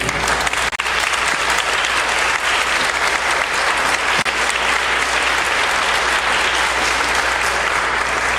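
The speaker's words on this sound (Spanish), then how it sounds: "para quien pedimos por favor un fuerte aplauso" An audience at a presentation of the book 'Ciberespías al Rescate en Busca de Sam' by Lidia Cacho breaks into strong, continuous applause, a dense wash of clapping that holds steady throughout.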